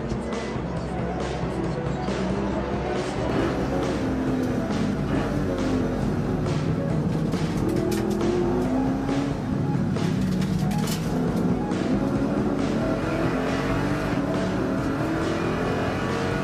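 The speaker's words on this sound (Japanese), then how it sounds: "山内がステアリングを握るレクサス ISF もスタート。 チームワールドカーアワードの24時間も始まった。" Race cars, including a Lexus IS F and a Porsche GT3 R, start a 24-hour endurance race, with a continuous wash of engines accelerating and revving, steady and moderately loud with no break.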